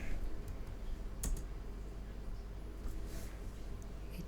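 Faint keystrokes and clicks on a computer keyboard while keyboard shortcuts such as Ctrl W are entered, with a few sharper taps standing out over a low background hum.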